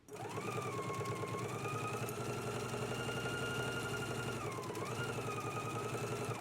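A sewing machine stitches a collar seam, including backstitching at each end, running as a steady, close, continuous mechanical whir with a rapid rhythmic clatter and a brief dip in speed partway through.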